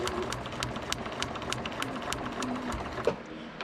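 A sewing machine runs steadily while a paper-pieced miniature quilt is stitched, a continuous close-up motor whir with a rapid, even needle rhythm throughout.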